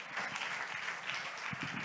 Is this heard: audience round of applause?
yes